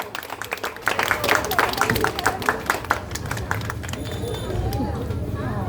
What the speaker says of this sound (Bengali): জোরে হাততালি হয়ে যাক, জোকার।